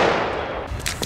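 A Thunderking firecracker goes off outdoors with a single sharp, loud bang that rings out and decays quickly, followed by a couple of fainter pops.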